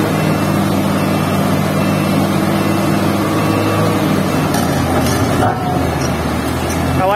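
A Komatsu PC400 excavator engine running with a vibro attachment, a loud continuous close diesel rumble with steady hum, a slight dip in the middle, and some faint voices.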